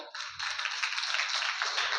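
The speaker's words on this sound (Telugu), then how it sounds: "ఓకే క్లాప్స్ కొడదాం" A small group claps hands together in a room, a steady, fairly brisk patter of claps lasting about two seconds, with a faint low voice murmuring briefly underneath.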